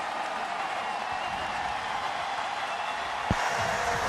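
A football stadium crowd roars steadily through a timeout in a 2021 Marshall versus East Carolina game, a dense, continuous wash of noise with no single voice standing out and a brief thump near the end.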